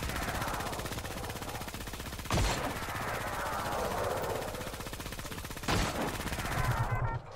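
Rapid automatic gunfire in the shooter game Creative Destruction, a fast continuous stream of shots at moderate volume with two sharper louder bursts standing out, and no talk over it.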